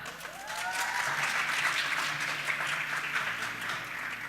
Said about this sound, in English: just applaud as to how much you feel they should deserve to win